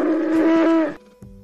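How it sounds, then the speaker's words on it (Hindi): A buffalo gives a single loud, drawn-out moo lasting about a second, followed by quieter fainter lowing. "Buffalo."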